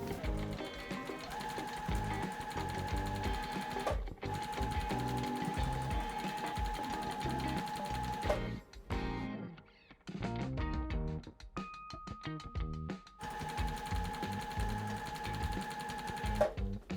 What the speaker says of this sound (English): Now we're gonna sew 1 row, 2 rows, and 3 rows, and then we're gonna sew those rows together